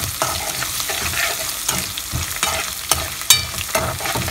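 A crushed mango mixture frying in a pan while being stirred, giving a close, continuous sizzle broken by scraping and clattering strokes of the spoon, with no voices.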